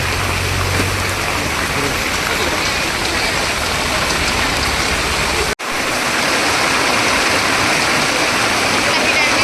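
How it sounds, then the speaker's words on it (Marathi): Heavy monsoon rain pours steadily at Panshet dam, a dense, continuous roaring wash that stays loud throughout, broken only by a split-second dropout midway. "वा पाऊस आला रे पाऊस"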